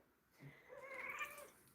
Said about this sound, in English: Yes, meow, meow, meow.